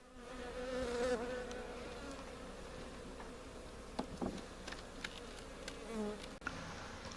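Honey bees from a captured swarm buzz as a steady, moderately loud drone throughout, with a few brief knocks and creaks of wooden hive frames being pried apart.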